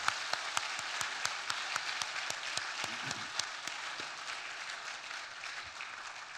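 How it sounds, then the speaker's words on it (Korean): A church congregation at an Easter union worship service claps in praise. Dense, steady applause from many hands carries on for several seconds with sharp individual claps, then thins slightly toward the end. "우리 한 번 더 박수로 하나님께 영광 돌리겠습니다."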